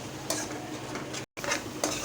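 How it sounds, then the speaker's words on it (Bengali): Spice paste stir-fried in a pan gives a constant dense sizzle with scraping strokes of a spoon, broken by a brief silent cut. "তো এখন মশলাটা কষাই।"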